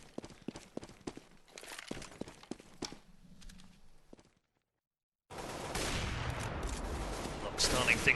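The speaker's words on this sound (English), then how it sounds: "Starting things off nicely with the wall bang AWP." AWP sniper rifle wallbang shots in Counter-Strike: GO during a competitive esports match, heard as a string of sharp gunfire cracks with footsteps, a short silence, then dense noisy game action.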